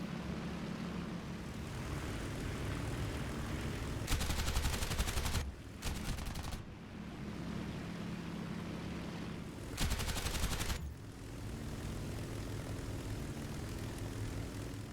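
Italian Macchi C.200 fighter planes drone steadily overhead, their propeller engines a constant roar broken by two long, loud bursts of rapid machine-gun fire and a shorter burst between them.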